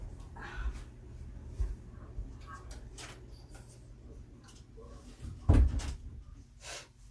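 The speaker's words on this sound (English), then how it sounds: "Let me shut my door real quick." A door is pushed shut indoors with a single solid thump partway through, over a low household hum from a television in another room.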